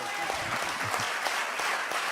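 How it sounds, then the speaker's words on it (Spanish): A church congregation applauds warmly during a Spanish-language worship service, a dense, steady patter of many hands clapping at once, close and fairly loud with no speech. "Yo creo que Él se merece un fuerte aplauso."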